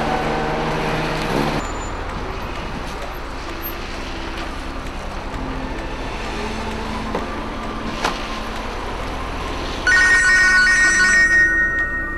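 A telephone rings in loud tonal bursts at the start and again near the end, with a steady low background of traffic or engine noise between the rings, and no talk.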